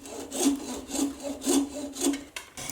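A nylon part is machined in one full-depth cut, giving a steady, rhythmic rasping with about five even strokes a second apart, loud and close, with no voices.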